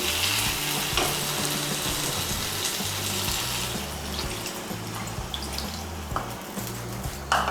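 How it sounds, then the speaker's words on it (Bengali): Water is poured into a pan of frying spice paste for a pointed-gourd do pyaza, giving a steady close sizzle and bubbling with faint stirring scrapes and soft clinks, no voices. "এখন এর মধ্যে আমি দিয়ে দিচ্ছি জল।"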